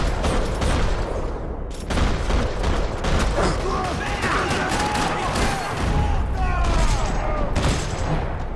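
Rapid bursts of gunfire in the video game Max Payne 3 crackle and rattle in quick succession, loud and close, with brief pauses between volleys and faint voices mixed in.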